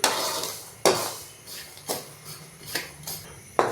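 Roasted black chickpeas (kala chana) are scooped out of a metal pan, making sharp metallic scrapes and clanks about once a second, close and fairly loud.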